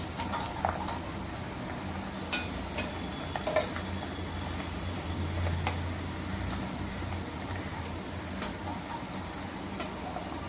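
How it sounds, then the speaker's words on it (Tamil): Herbs fry slowly in oil over a medium flame for a homemade hair oil, giving a steady, soft, close crackle and stir with scattered sharp ticks throughout. "ஸோ மீடியம் ஃப்ளேமில் ரொம்ப பொறுமையாக இதை ஃப்ரை பண்ணுங்க"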